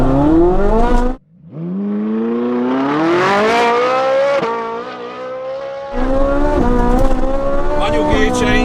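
A rear-wheel drive supercar launches hard from a standstill, its engine note climbing loudly through the revs with a brief pause at a gear change before pulling again, close and dominant.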